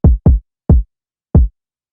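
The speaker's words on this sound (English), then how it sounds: "So first off, I start with this kick sound, an extremely simple pattern." A booming kick drum in a simple repeating trap-style pattern for a beat: four deep, short thumps, two quick ones, then two spaced apart, loud and dry with silence between.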